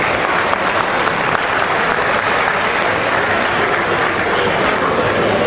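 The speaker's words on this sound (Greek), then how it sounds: "Παρακαλούμε το θερμό χειροκρότημά σας προς τα παιδιά αυτά." An audience at a cultural association event gives warm, steady applause for children receiving medals, a dense and loud clapping that holds evenly throughout.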